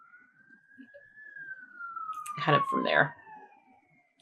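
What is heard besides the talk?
siren passing outside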